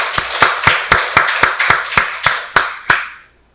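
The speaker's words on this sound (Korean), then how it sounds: "박수로 하나님께 영광 돌리겠습니다" A church congregation claps in unison during a Sunday worship service, about ten sharp, evenly spaced claps that are loud and close and then stop abruptly.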